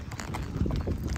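A ridden horse's hooves clip-clopping in a quick, uneven rhythm at close range, with faint muffled voices or background noise underneath.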